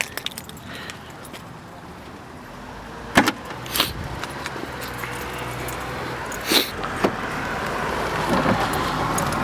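Keys jingling and the trunk of a 2010 Chevrolet Camaro 2LT RS being unlatched and opened, a few sharp clicks and metallic clunks close by over a quiet outdoor background hum.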